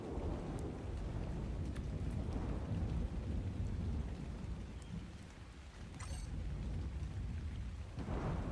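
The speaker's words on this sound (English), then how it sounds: "It's raining again." Steady heavy rain pours down without a break, with a deep rumbling undertone and occasional sharper spatters, and no voices.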